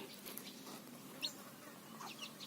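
Hens and their chicks on a small farm, clucking and peeping softly at a distance, with a couple of brief higher chirps standing out over a steady outdoor background hum.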